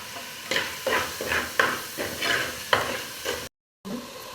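Sliced onions with green chillies and salt sizzle in a pan for beef curry, with about eight rhythmic stirring scrapes over a steady frying hiss, then a brief silent gap and a final scrape.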